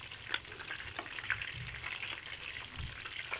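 Chicken wings frying in a pan give off a steady, close sizzle with scattered pops and crackles that run unbroken from start to finish.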